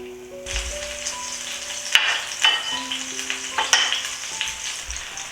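Onion and hot pepper fry in hot oil in a pot, giving a steady sizzle throughout with a few louder crackles and stirring knocks, close and fairly loud, with a faint tonal hum in the background.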